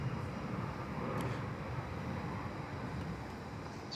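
A Bombardier airliner rotating on takeoff at Perth Airport, a steady, fairly loud broadband jet engine roar heard from a distance with no talking.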